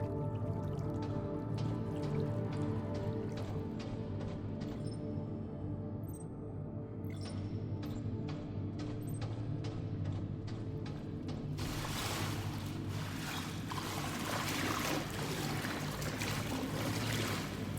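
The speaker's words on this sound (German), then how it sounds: "Das hört sich so nach viel Wasser an." Dripping and flowing water in the video game Deliver Us The Moon, a steady wash of running water with scattered drips over a low hum, brightening and growing fuller in the last few seconds.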